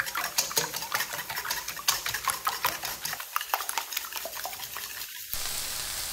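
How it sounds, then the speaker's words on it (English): A whisk beats eggs with salt and pepper in a bowl, making quick, irregular close clicks and scrapes against the sides. A faint sizzling hum runs underneath. "To our eggs, we're gonna add some salt. I did take the potatoes out of the oven, so those are ready for us, and some pepper. And I'm gonna whisk this together."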